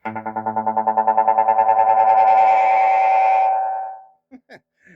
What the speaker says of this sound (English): If I turn up the feedback, you got many bounces.